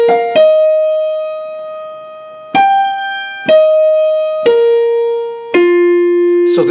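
Opening of Copland's Fanfare for the Common Man played as a sequence of bright sustained notes, each struck note ringing out and leaping by wide open intervals, about six notes spaced unevenly and alone.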